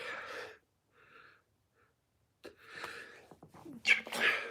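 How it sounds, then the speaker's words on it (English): A close sneeze with a sharp inhaled build-up followed by an explosive burst, then some sniffing and breathy aftermath. "I had to sneeze"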